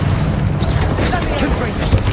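A Confringo spell blast in Hogwarts Legacy sounds as a dense, continuous rumble of booming impacts with crackling bursts, loud and busy throughout, while spell shouts and voices run over it.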